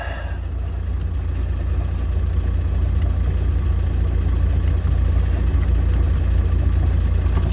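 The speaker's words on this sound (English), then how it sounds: "started the engine" A camper van's engine idles steadily, a continuous low, close rumble with faint periodic ticks riding over the even drone throughout.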